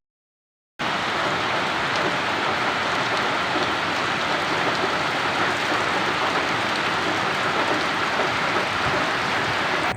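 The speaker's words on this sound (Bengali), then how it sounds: "তো জোরে জোরে বৃষ্টি হচ্ছে" Heavy rain pours just outside a window, starting abruptly after a brief silence and then holding a dense, loud, unbroken rush of drops for the rest of the stretch.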